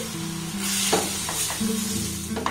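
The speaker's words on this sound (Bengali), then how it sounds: "এবার সুজি আর দুধটাকে কিন্তু কন্টিনিউ এইভাবে নাড়াচাড়া করতে হবে" Semolina and milk are stirred in a pan for a sugar-free semolina barfi, a soft continuous hiss with a few scraping strokes and a faint hum underneath.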